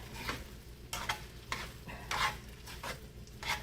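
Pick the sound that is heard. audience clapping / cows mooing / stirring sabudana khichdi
stirring sabudana khichdi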